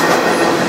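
Freight train rolling on rails at night, a loud, close, continuous rumble and rattle of wagons over the track with no talking.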